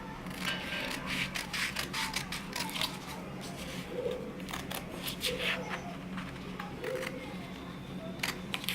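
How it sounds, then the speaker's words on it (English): Scissors snip repeatedly through paper while a cube net is cut out, giving a steady run of close, crisp cuts and rustles at an even pace over a faint background hum, with no talking. "So you cut this net out."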